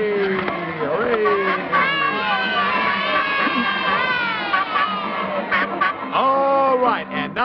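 Studio audience of children cheering and shouting for Flub-a-dub on the 1952 Howdy Doody television show, a loud continuous crowd roar with excited voices, on an old broadcast recording.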